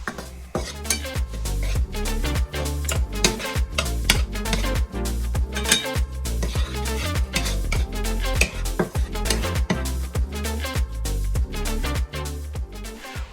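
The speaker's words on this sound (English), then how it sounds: "Take a heaping tablespoon or so of garlic butter and melt it in a non-stick pan." Garlic butter melts in a non-stick pan, with a busy run of close utensil scrapes and clinks against the pan over a soft sizzle, steady throughout with no talking.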